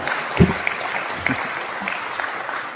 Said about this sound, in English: Muted applause for that.